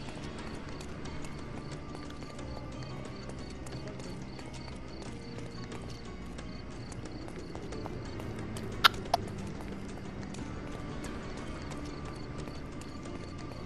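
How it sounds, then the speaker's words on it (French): Steady rhythmic horse hoofbeats in the video game Sherlock Holmes Chapter One clip-clop at a walking pace, faint and even, over a low continuous background hum. "Du cheval."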